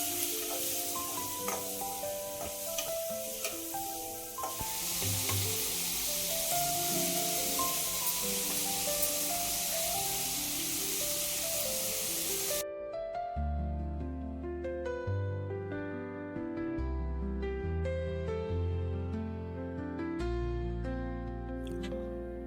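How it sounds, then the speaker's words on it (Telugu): Tomatoes frying with onions, green chillies and curry leaves in a pan for tomato chutney, a steady broad sizzle for about thirteen seconds, followed by background music with no cooking sound. "తర్వాత ఇది కొంచెం ఫ్రై అయిన తర్వాత టమాటోస్ వేసుకున్నాను."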